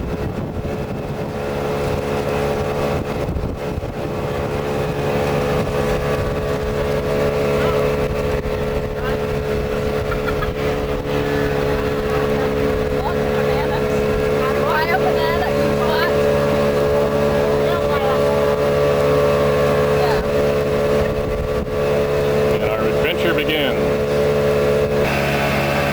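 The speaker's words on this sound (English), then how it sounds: "Over the buzz of the engine here." A boat engine on a river trip in the Peruvian jungle drones as a steady, loud buzz throughout, with faint voices under it.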